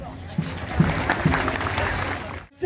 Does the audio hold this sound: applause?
yes